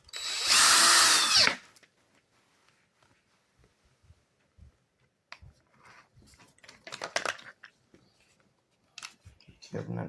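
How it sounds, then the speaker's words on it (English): A power drill drives its bit through a broken suitcase foot in one loud, whirring burst, followed by quiet handling and scattered clicks as the work pauses. "So what I'm gonna do is run my drill bit through there."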